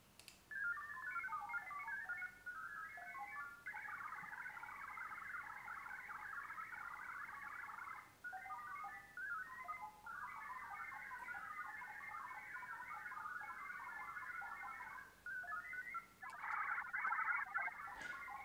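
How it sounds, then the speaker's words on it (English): Licence-free radios trade WinLink data in faint bursts of chirpy, warbling digital tones. They run almost continuously with brief gaps between transmissions and no talking. "So you can hear the radios transmitting to each other"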